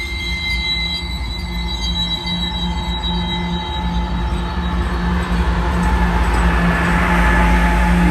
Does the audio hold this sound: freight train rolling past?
yes